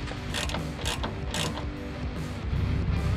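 A wrench tightens a nut while installing a Falcon 3.3 shock, with a series of rhythmic ratcheting clicks close to the microphone and no talk.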